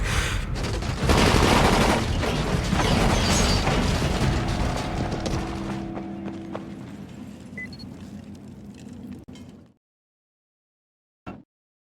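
A dense, loud barrage of rapid gunfire in the video game Dying Light fills the first half, then thins into scattered shots and a fading rumble before cutting to silence, with one short sharp report near the end.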